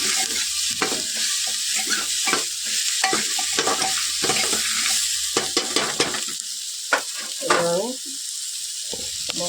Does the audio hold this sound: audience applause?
no